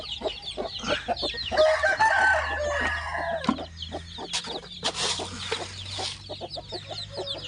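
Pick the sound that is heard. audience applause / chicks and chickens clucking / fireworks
chicks and chickens clucking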